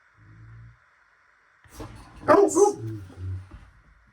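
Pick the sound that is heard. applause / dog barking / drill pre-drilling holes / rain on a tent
dog barking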